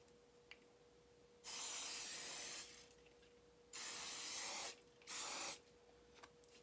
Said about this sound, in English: if I hairspray it after I do a section, that it lasts a lot longer